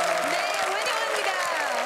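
A studio audience on a Korean TV variety show welcomes a group of army reservists with broad applause, heard as a steady wash under a voice that dominates the foreground.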